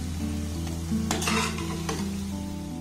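Palm fritters (taler bora) fry in hot oil with a dense, crackling sizzle that swells briefly midway and then settles into a steady bubbling hiss, with no voices.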